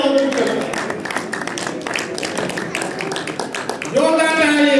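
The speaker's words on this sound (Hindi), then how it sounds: "तालियां जोरदार तालियां।" Audience applause for a student at a community annual function, many hands clapping in a dense, steady patter throughout, with an amplified voice talking over it at the start and end.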